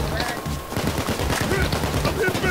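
Rapid gunfire from the video game PAYDAY 2 during a heist shootout, a dense stream of shots beneath busy game audio.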